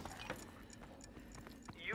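Horse hooves clip-clop in a video game, a loose run of hoof beats under voices throughout the short stretch.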